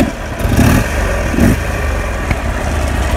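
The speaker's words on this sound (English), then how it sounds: "Very torquey V-twin engine." A 2009 Buell XB12S Lightning motorcycle's torquey V-twin engine runs with two short throttle blips over a steady low idle rumble, close and fairly loud, with no voices.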